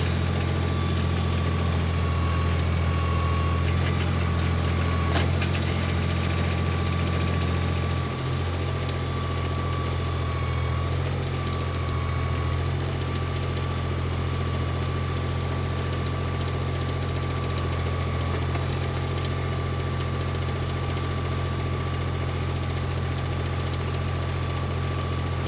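A New Holland tractor backhoe engine runs steadily at 2,700 RPM, a loud, continuous droning roar with a strong low hum and a slight shift in tone a few seconds in, with no talking.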